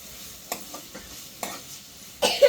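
Mango rice being mixed in a hot pan on high flame, with a spoon scraping and tossing the rice in several distinct strokes over a faint sizzle, close and fairly loud, with no talk.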